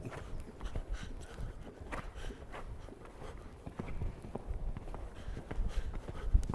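A horse moves across a riding arena during a lesson on flying lead changes, giving a soft, fairly distant rhythmic drumming of hoofbeats that stays low and steady throughout, with no talking over it.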